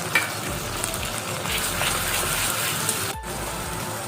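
Onion paste sizzling in hot oil in a pan for an Assamese fish curry, a steady close frying hiss that runs throughout with a brief dip near the end.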